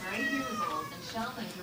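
A distressed cat gives a loud, drawn-out, wavering meow close up, a single strained yowl lasting the whole moment.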